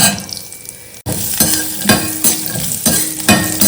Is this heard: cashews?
yes